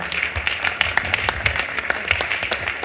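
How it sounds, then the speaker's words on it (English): Audience applause welcoming Samson Aligba, a solutions architect, to the stage at a tech event, a steady patter of clapping from a crowd held at moderate loudness throughout, with no talk over it. "Clap, because it's not easy."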